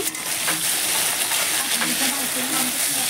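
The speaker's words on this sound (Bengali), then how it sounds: "আমি সবগুলো মাছের মাথাগুলো ভেজে নেব হাই ফ্লেমে।" Fish heads fry in hot oil over a high flame, a steady loud sizzle and hiss running throughout, with a voice speaking faintly under it.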